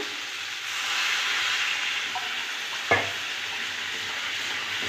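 Curry sizzles steadily as it fries in a pan and is stirred, with a single sharp clack from the spoon partway through, close and alone with no voices.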